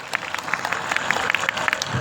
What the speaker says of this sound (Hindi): उन सबको एक बार तालियों से अभिनंदन करिए दोस्तों।